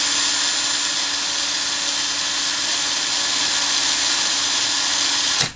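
A power drill twisting a throttle cable runs steadily at a high, even whine for several seconds, loud and close, then cuts off abruptly at the end.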